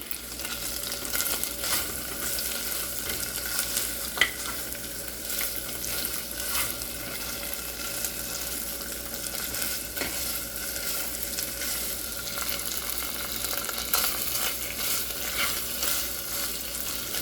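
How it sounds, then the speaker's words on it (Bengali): Meat for nihari sizzles and fries steadily in a hot pan, a continuous crackling hiss with occasional pops and stirring scrapes, close up and without talk. "ভাজা ভাজা করলে খেতে ভালো লাগবে।"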